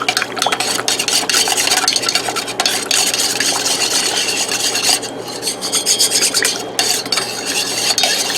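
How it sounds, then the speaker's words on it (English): Warm roselle tea stirred with fluffy stevia sweetener, a loud, close, continuous rasping stir with rapid scraping strokes and brief pauses, no voices. "you want to stir it up with your sweetener while it's warm"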